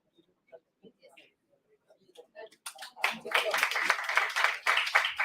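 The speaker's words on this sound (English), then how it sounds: "Please give a huge round of applause, everyone." A hall audience at a university department event bursts into a loud, sustained round of applause and clapping that fills the room after a stretch of quiet, scattered speech.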